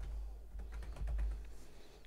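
Typing on a computer keyboard while entering a table name in Microsoft Access: a quick run of light, close key clicks that is fairly quiet, with no talking.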